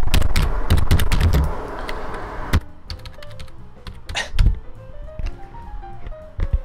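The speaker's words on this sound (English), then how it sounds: "And then you've got to type stuff" Typing on a computer keyboard, with dense rapid key clatter at first, then sparser individual taps and clicks close by, interrupted by a brief faint tonal sound.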